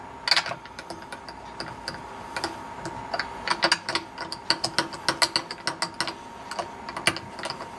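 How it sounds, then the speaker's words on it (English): Guitar tuning machine heads being wound by hand, a close run of quick ratcheting clicks and gear ticks in uneven bursts that grow denser toward the end. "I'm just going to wind the posts so the holes are actually in line with the direction of the strings."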